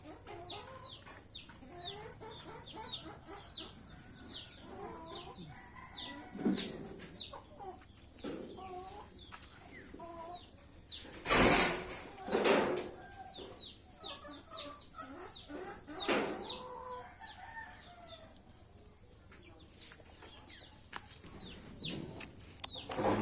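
Chickens in a backyard cluck and call repeatedly, scattered clucks and squawks at low level over quiet outdoor background, with one brief louder burst partway through.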